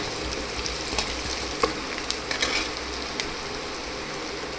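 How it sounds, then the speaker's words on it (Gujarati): Ginger, chili and onion sautéing in a hot pan of oil for Gujarati poha kachori filling, a steady close sizzle with a few sharper crackles and pops scattered through, no voices. "હવે એને ઘડીક આપણે છાતરવા દેવાનું છે."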